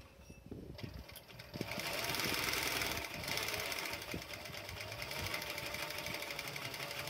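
Leather-working sewing machine running steadily during break-in after generous oiling, a fast rhythmic mechanical clatter with a continuous whirring motor, close and fairly quiet, with no talking.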